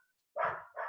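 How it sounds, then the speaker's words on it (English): A pet dog gives two quick barks in succession, the first sharper and the second slightly shorter, fairly close and alone. "that's my dog barking"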